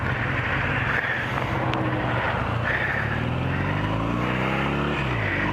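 A motorbike carrying a rider and a youngster on the back rides over railroad tracks where the ties are in, its steady engine drone loud and continuous with a rising, shifting pitch toward the end.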